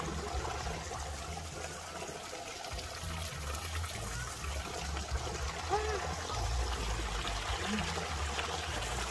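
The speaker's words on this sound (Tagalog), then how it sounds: "Fountain" A water fountain in Araluen Botanical Gardens splashes and trickles steadily nearby in an outdoor garden, a soft continuous flow with faint voices and birds in the background.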